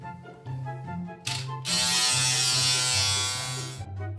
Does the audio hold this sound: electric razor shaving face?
yes